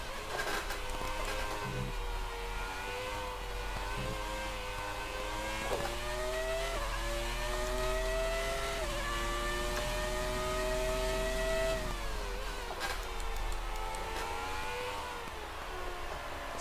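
F1 car engine in a racing video game, a sustained droning whine rising and falling in pitch with gear shifts and revs, steady and continuous throughout with no talk.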